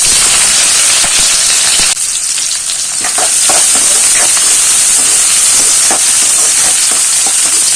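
Chopped onions tossed into hot mustard oil with whole cumin give a loud, continuous frying sizzle and hiss that rises sharply at about two seconds, with occasional stirring taps.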